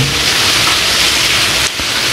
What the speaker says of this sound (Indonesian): mendung masih hitam, masih pekat, masih hujan terus turun